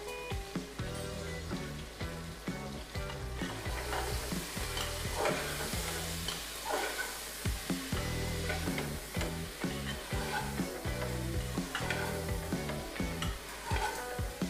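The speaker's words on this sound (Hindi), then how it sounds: "तो अब हम मसालों को आलू बैंगन के साथ थोड़ी देर के लिए भुनने देंगे।" Spices roasting with potato and eggplant in a hot pan, a steady sizzle and crackle with repeated scraping stirs throughout, close up and fairly quiet.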